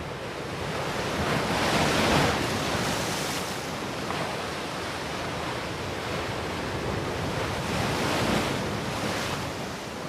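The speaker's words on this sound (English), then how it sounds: "watching surf pounding in." Surf pounding onto a rocky shore on the wild Hong Kong coast near Shek O, a continuous roaring wash that swells and recedes in broad waves, with wind buffeting the microphone and no voices.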